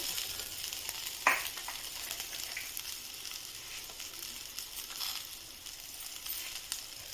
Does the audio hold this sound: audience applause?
no